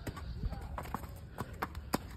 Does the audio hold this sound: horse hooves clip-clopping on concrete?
yes